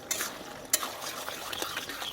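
Malabar spinach with a little sugar is stirred in a hot pan, a soft sizzle under scraping strokes and a sharp utensil clink against the metal, brief and close.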